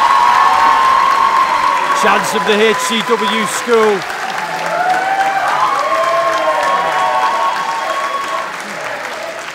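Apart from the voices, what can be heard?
crowd applause at a wrestling show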